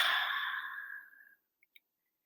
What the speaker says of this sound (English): Yes, we are taking a long, deep breath.